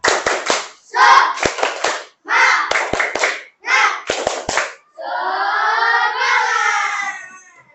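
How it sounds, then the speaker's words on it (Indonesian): A class of schoolchildren performs a rhythmic clapping chant in an Indonesian classroom: four bursts of patterned claps mixed with chanted voices, each set ending in sharp accented claps, followed by a long sustained group shout. "kita tepuk semangat ya. Tepuk semangat."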